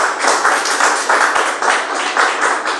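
A church congregation clapping for Jesus during a service, loud dense clapping from many hands with a steady rhythmic pulse, close and continuous.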